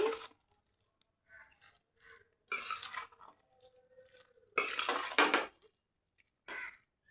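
A spoon scrapes and clinks against a pot in several short bursts, with quiet pauses between the stirring strokes, mixing a field bean (chikkudukaya) dish after tempering is added.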